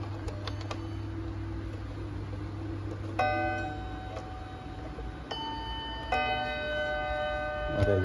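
An antique clock sounds bright, ringing chime strikes three times over a steady low hum. Each tone rings on and overlaps the next.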